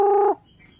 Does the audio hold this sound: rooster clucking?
yes